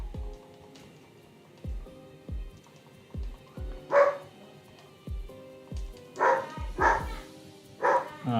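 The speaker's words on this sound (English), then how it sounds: "So yeah, dog barks again." A dog barks in several sharp, separate bursts, some doubled, against a soft, regularly pulsing background of video game music from a Pokémon game.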